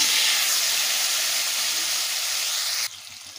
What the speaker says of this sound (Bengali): এবারে ওই তেলেই আলুগুলোকে ভেজে নেব